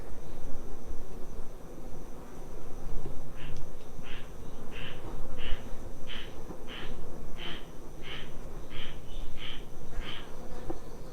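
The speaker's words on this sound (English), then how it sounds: "Look out, bee." Honey bees around an open hive make a steady, close buzzing drone, with a run of faint, regularly spaced higher chirps partway through and no voices.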